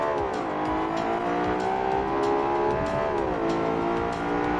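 A Fiat Multipla family car driven in a modded racing game, its engine droning steadily with rising and falling pitch as it revs and shifts, loud and continuous, with light tire noise.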